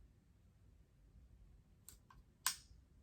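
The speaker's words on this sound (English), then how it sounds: "the dial is your on and off. You can hear it clicking." A nail e-file's on/off dial clicks a few times, with brief sharp clicks near the end against a quiet background.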